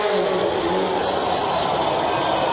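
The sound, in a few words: rally car engine revving at X Games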